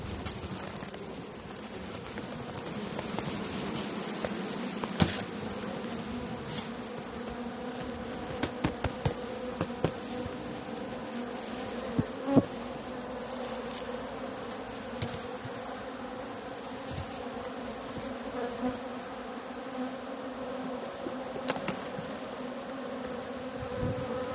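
Honey bees buzz steadily at a hive in spring, a dense continuous drone close by, with occasional light knocks and clicks and no talking.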